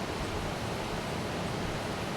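Tat Ton waterfall in a forest near Ban Non Yang, Nong Sung, rushing over rocks as a steady, even roar of broadband water noise that fills the whole clip, with no voices.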